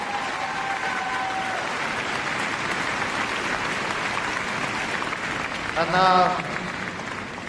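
Steady audience applause fills an arena at the Crufts 2018 dog show, sustained and fairly loud, with an announcer's voice cutting in near the end.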